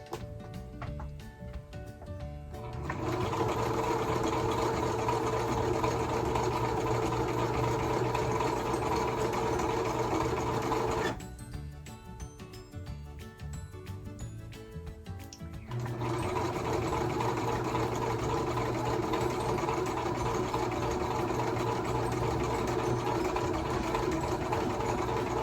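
A sewing machine stitches a fleece jacket with a fast, steady mechanical whirring hum in two long runs, separated by a quieter pause of a few seconds.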